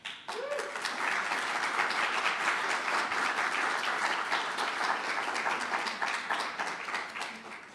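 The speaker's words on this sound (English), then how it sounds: "Can she get a round of applause?" A crowd bursts into applause that swells quickly and holds steady and loud, thick with overlapping claps, tapering slightly at the end.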